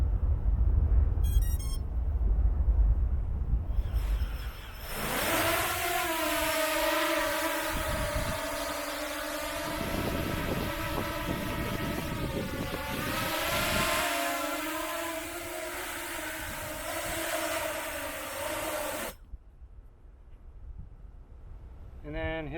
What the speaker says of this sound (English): and then you can power up the drone